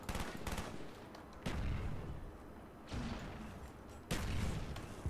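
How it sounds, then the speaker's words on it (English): Black Ops 1 gunfire comes in loud bursts with heavy low booms, three or four sharp volleys separated by brief lulls, close and punchy, with no voices over it. "Oh my god, I'm getting shot through the wall."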